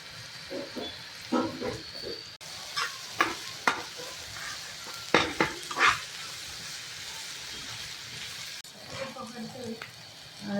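Dried baby shrimp (jawla) dropped into a hot pan fry with a steady sizzle, broken by several clattering stirring scrapes at close range.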